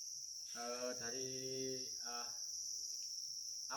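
Crickets on a cricket farm keep up a continuous high, steady chirring drone, faint and constant, while someone talks over it in short phrases.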